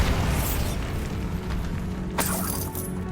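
A Bombarda spell explodes in Hogwarts Legacy: a loud, dense burst that opens with a crash and fades into rumbling debris, then a sharp crack about two seconds in.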